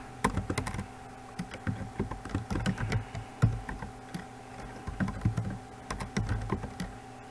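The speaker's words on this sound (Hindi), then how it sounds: "मैं नेम लिख देता हूँ" Someone types steadily on a computer keyboard while entering a name into a Word document, with rapid key clicks coming in short irregular bursts over a constant low hum. No one speaks.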